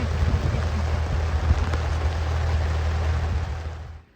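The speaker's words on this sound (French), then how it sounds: "il pleut comme vache qui pisse" Steady, heavy rain pours down on a boat at anchor in Greece in a dense, continuous hiss with a low rumble beneath, fading out abruptly at the very end.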